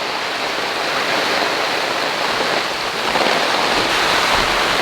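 Heavy rain pours steadily outside an off-grid homestead, a dense, loud and unbroken hiss with no break in intensity.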